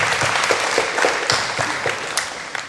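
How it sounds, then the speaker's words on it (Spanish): Applause for young basketball players at a youth basketball clinic in Tijuana, a steady round of clapping from a group filling the whole stretch without talk over it. "let's give these guys a big round of applause"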